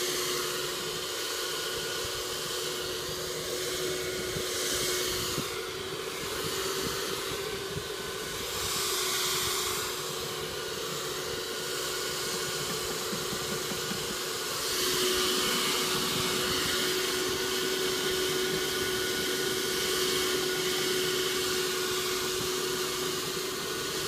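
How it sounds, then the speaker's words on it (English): A pellet stove vacuum runs steadily while cleaning ash out of a wood pellet stove pipe, a loud continuous whooshing hiss with a faint whine that shifts slightly as the nozzle moves, with no talking. "use my pellet stove vacuum right here, and go ahead and clean that out"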